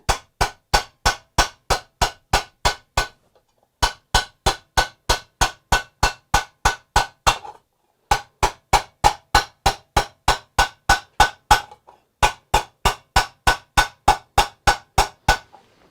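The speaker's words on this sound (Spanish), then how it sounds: "con un martillo de paleta como este." Steady, evenly spaced blows of a peen hammer ring on metal in a workshop, four long bursts of a dozen or so strikes each, with brief pauses between.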